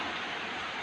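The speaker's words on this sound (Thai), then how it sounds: "ฝนตกแล้วมันก็หนาว" Steady rain falling outdoors, a dense even hiss of drops that holds at a constant level throughout the brief moment.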